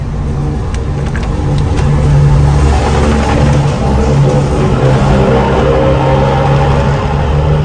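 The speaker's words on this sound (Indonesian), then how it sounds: "Suara truk yang besar seperti barusan, truk trontonnya." A loud, continuous roar of a heavy tronton truck close by in a tunnel at the Mandalika circuit at night, steady and rumbling throughout, driving past.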